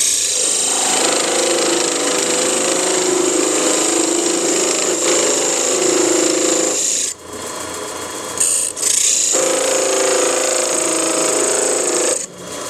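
A wood lathe turns a small Christmas tree ornament, the cutting tool shaving the narrow interior trunk down to about a quarter inch, giving a loud, steady raspy scraping that drops out twice for brief pauses.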